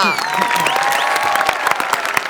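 A studio audience claps steadily throughout on the Marathi comedy show Maharashtrachi Hasyajatra, a dense, even wash of applause with faint tonal music lines running underneath.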